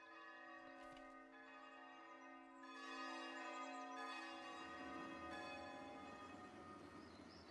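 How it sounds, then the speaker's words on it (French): Church bells ring in the medieval city-building video game Foundation, resonant bell tones layered and sustained, swelling midway and then fading into a lingering hum, with no voices over them. "Allez, sonnez les cloches."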